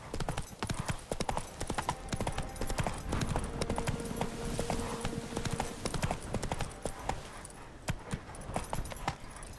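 Horse hooves clip-clopping at a steady gallop through Skellige in The Witcher 3, loud and continuous, with a brief whinny, jangling tack and faint voices mixed in.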